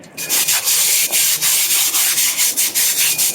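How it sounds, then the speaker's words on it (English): Close and loud, a broom scrubs a floor in rhythmic strokes, a repeated series of bristly rasps about every quarter second, with no talking. "And what you will do is start scrubbing"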